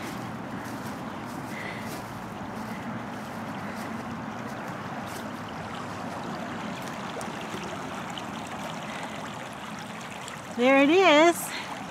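A flooding creek on a sunny day rushes and churns in a steady, loud, continuous wash of water, with a voice speaking briefly near the end.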